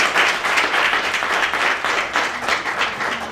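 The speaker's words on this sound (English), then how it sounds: "And again, let's give Legislator Bynum another round of applause for her amazing work on our behalf in Nassau County." Audience applause at a Hard Hats and Heels event honoring a Nassau County legislator, sustained clapping from a crowd with rhythmic swells, fairly loud and steady throughout.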